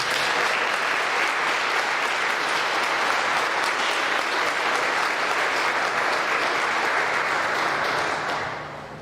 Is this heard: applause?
yes